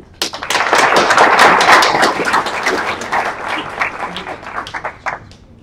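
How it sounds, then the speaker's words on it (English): Audience at a London Innovation Society live event gives a big round of applause for a presenter, dense clapping swelling quickly after a short start, holding strong, then thinning to scattered claps near the end. "a big round of applause for Eleanor and the whole London Innovation Society team"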